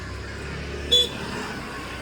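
A vehicle's horn gives one short toot from nearby, a brief beep over a low background rumble of traffic.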